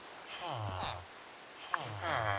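Rain falls in the modded Minecraft FTB Ultimate Reloaded game, a steady soft hiss running beneath a voice.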